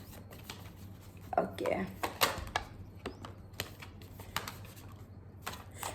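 Tarot cards are shuffled at close range, giving soft riffling and slapping bursts with sharper taps, while a single word is spoken briefly over the shuffling.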